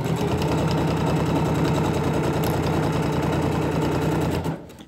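A sewing machine runs loud and close, stitching backstitches along a garment seam with a fast, even mechanical chatter that continues steadily and then stops abruptly near the end.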